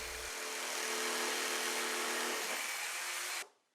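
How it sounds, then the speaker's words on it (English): A power jigsaw buzzes steadily as it cuts an opening in a faux stacked stone panel, a high rasping whine that holds for a few seconds and then stops abruptly. "using a jigsaw, cut out the opening"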